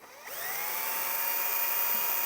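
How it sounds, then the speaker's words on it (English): Power drill fitted with a wire brush bit scrubbing rust off a Mountfield mower carburetor, a high steady whirring whine that spins up quickly and holds, close and alone. "I can just try and get my drill bit with my wire brush that I had, just try and loosen some of that off"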